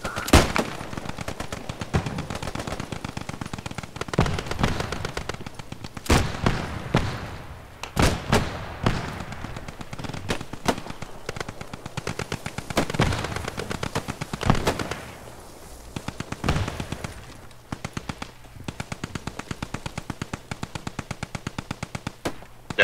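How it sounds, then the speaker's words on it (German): Machine gun fire during a Vickers MG defense of Driel in the video game Post Scriptum: long, rapid bursts of shots with occasional heavier thuds and brief pauses, loud and continuous across the scene. "Wurde von der MG, wurde von der MG beschossen."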